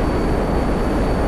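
Aircraft flying in the GTA 5 Online video game, a loud steady engine roar and rushing wind that stays constant throughout.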